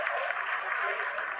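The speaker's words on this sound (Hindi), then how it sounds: "Lot of applause indicates that till now the performance has been nominal." Sustained applause fills the ISRO control room during the Chandrayaan-3 lunar landing, a dense, steady wash of clapping from many people with a murmur of voices underneath.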